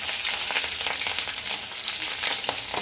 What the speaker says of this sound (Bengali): তিনটে তেজপাতা দিচ্ছি আর একটু জিরে ফোড়ন দিচ্ছি আর লঙ্কা দিচ্ছি